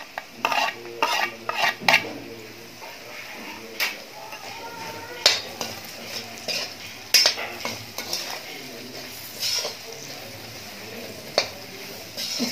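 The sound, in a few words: stirring and roasting spices in a pan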